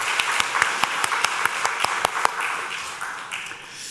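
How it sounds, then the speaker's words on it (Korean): A Sunday church congregation claps together, a burst of rhythmic, evenly spaced hand claps over a softer crowd wash that slowly thins and fades out over a few seconds. "박수 올려드리겠습니다."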